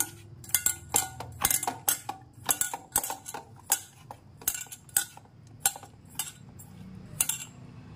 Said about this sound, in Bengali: নুন হলুদ মাখিয়ে এরপরে কড়াই বসিয়ে দিলাম গ্যাসে